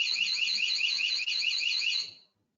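An electronic alarm siren on an alarm output port warbles in a loud, fast repeating pattern for about two seconds, then cuts off abruptly into silence.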